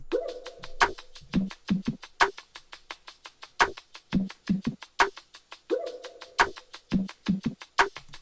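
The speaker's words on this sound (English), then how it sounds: "So here's some rims that I added." Sharp, dry rim clicks punctuate a sparse beat, with short knocking hits and a repeating tonal figure, clear and up front.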